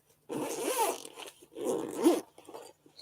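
A zipper on a crochet bag is pulled open and closed in two quick, close rasping strokes separated by a short pause.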